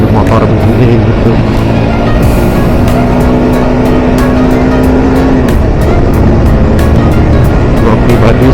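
Riding a Honda CBR 150R motorcycle through city traffic in Bandung, with a steady loud engine drone and wind rush throughout, a brief horn-like tone in the middle, and surrounding vehicles passing.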